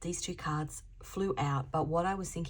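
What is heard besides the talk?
No everyday noise stands out behind the speech.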